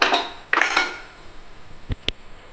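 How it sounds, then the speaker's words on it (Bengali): A metal pressure cooker lid clanks and rattles as it is opened after cooking broken-wheat khichdi, a few close metallic scrapes followed by two short sharp clicks. "আমি এখন প্রেসার কুকারে ঢাকনাটা খুলে নিচ্ছি"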